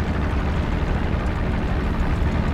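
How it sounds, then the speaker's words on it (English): A WWII fighter plane taxiing in a flight-sim game set in January 1945, a dense steady engine drone and rumble, loud and unbroken for a few seconds, with no talking. "We got another plane taxiing out."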